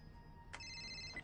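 A mobile phone rings with a short electronic ringtone, a brief burst then a sustained tone, fairly faint in a quiet room in a Hallmark Christmas movie.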